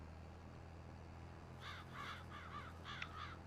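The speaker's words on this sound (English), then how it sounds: "Nobody asked you, birds." Crows in Farming Simulator 22 caw in a series of harsh, repeated calls during the second half, over a steady low tractor-like drone on a farm in The Valley, The Old Farm map.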